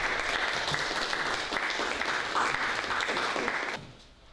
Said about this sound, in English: And we'll give you a clap